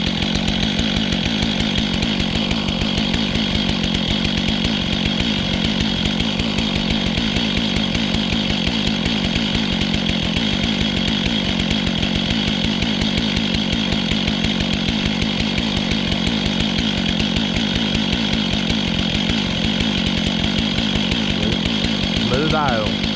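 A Stihl chainsaw idles loudly and steadily at close range with a constant engine drone as its automatic adjustment settles, while someone talks over it.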